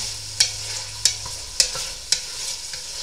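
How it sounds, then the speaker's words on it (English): Tofu frying in sesame oil over low heat, a soft steady sizzle with a few sharp clinks of a utensil against the pan at regular intervals, close by and with no talk. "so we'll just be patient with the tofu frying"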